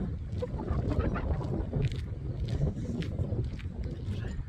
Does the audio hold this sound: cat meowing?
no